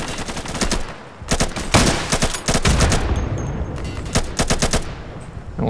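Gunfire from the video game Insurgency: bursts of rapid automatic shots crack in quick clusters, loud and close, with short gaps between volleys.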